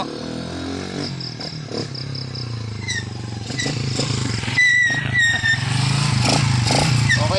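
A motorcycle engine runs close by after fuel trouble has been fixed, idling steadily and then rising into louder revs, with clattering handling noises mixed in.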